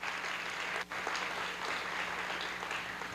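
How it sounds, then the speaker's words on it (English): Applause from an audience at a city scholarship award ceremony, a steady dense wash of clapping with a brief dip, filling the whole stretch without voices. "How about a round of applause?"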